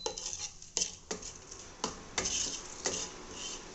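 A utensil stirs spices in a pan while making a papad curry: repeated scraping strokes and light metallic clinks, close and fairly quiet, with no voice.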